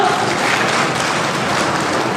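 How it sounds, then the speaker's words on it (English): A school debate audience applauds a speaker, a loud, dense wash of clapping that fills the whole moment without a break. "Can we have a huge round of applause for her?"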